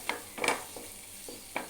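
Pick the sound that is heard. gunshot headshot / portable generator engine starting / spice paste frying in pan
spice paste frying in pan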